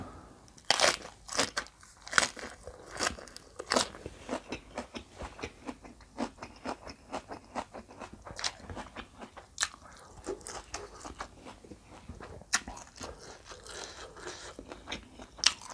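Close-up crunching and chewing of a spicy khanom jeen rice-noodle salad with fresh vegetables, irregular crisp bites and wet chews in quick succession, alone without talk.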